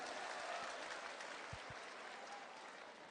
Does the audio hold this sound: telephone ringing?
no